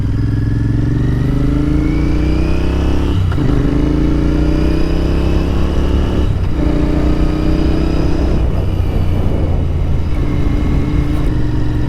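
A Royal Enfield Continental GT 650 cafe racer fitted with a Scorpion exhaust, its twin engine loud and close, pulling up through the revs in long sweeps with brief drops at each gear change.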